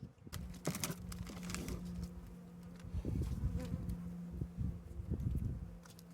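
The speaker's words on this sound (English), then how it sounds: "We know the bees are right here." A steady, close buzzing hum of honeybees in a horizontal hive during a winter inspection, with brief crackles and soft shifting noises over the drone.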